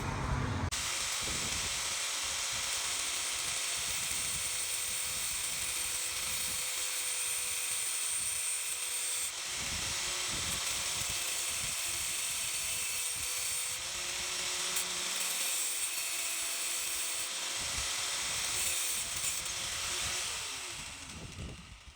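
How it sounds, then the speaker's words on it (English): A cutting tool slices the top off an aftermarket fuel pressure regulator clamped in a vise, giving a hissing, grinding whine with brief pauses and pitch shifts, fairly quiet overall and with no voices. "So I'm gonna go ahead and cut this top pad off."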